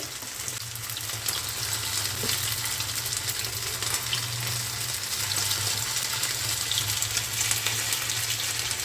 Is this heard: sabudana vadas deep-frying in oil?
yes